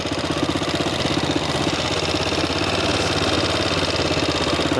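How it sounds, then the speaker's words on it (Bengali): A motorbike engine runs steadily and loud at close range as the bike crosses water, a rough, constant throbbing drone that never lets up. "আমরা এখন পানি না পারিয়ে বাইক দিয়ে পার হচ্ছি"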